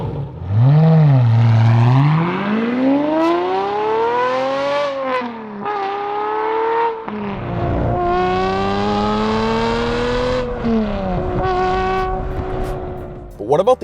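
A Corvette C6 Z06 revs hard nearby, its loud exhaust note climbing and falling in pitch through several sweeping pulls with brief lifts between them.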